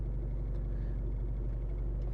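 A 2011 Mercedes A-Class W169 with a 2.0 diesel engine and an ESP fault drives along, its low, steady engine and road rumble holding evenly throughout with no talk.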